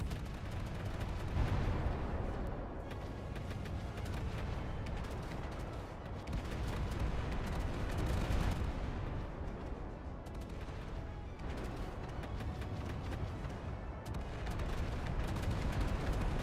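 Continuous heavy naval gunfire in the Battlestations: Pacific game, ship guns booming in a dense, overlapping barrage with repeated loud bursts and rumbling throughout, no talking.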